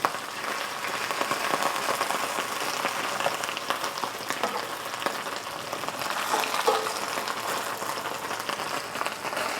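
Chicken pieces pan-frying in oil for Chinese crispy pan-fried chicken, a loud, dense, continuous sizzle close up, with occasional soft scrapes and taps as the pieces are moved around and flipped.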